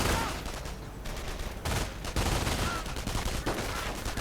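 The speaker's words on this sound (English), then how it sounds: "Rifle getting shot at quite a bit by other submachine gunners" Submachine gun and rifle fire in a WWII real-time strategy game, with rapid overlapping bursts and crackling volleys that come in waves over several seconds, with a vehicle position nearby and a faint voice underneath.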